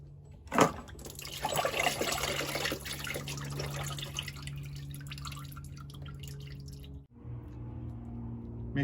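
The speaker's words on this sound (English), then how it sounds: "There's a little bit of fluid left, and I can just drain that into the pan." Leftover transmission fluid from a Toyota Tundra trickles and drips into a drain pan, with a louder splash near the start that settles into a steady soft dribble before a short pause and faint resumed flow.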